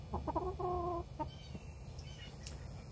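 A hen that has been pecking at a person's bald spot gives a run of close, clear clucks. The clucks come in the first second as a quick series with one drawn-out call, then a few softer ones follow.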